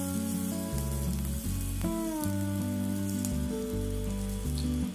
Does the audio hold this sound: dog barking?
no